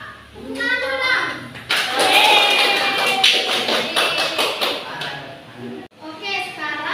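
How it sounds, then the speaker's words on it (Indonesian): A classroom of students claps hands together during a micro-teaching lesson on electrical energy and circuits, a burst of dense, bright clapping with children's voices around it. "Tepuk tangan dong."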